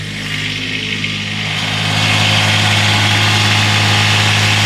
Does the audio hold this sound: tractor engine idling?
yes